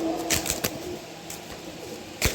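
A pigeon is handled up close, its soft low cooing mixing with several sharp bursts of wing fluttering and rustling against a faint background hiss.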